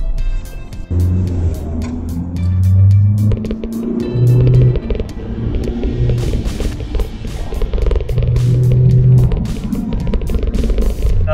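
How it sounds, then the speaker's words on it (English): Engine of a 2022 Ford Ranger pickup heard from inside the cab while driving, a steady loud drone that rises and falls with throttle, with road noise under it. "Oh my god, this engine is fast."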